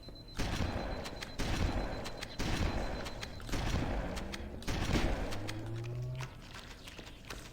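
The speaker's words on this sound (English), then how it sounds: "May as well just use a few shotgun shells on these guys" Shotgun fire in Halo: Combat Evolved Anniversary, five heavy blasts spaced about a second apart, each followed by a decaying roar, with a brief rising tone near the end.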